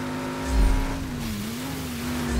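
A car engine in the video game Just Cause 3 holds a steady, loud drone, then swells as it revs near the end, with no talking over it.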